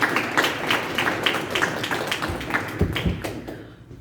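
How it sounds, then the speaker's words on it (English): An audience applauding at a motivational talk, scattered sharp claps over a dense patter that fades out toward the end, fairly close and with no talking over it. "Give him a round of applause, y'all."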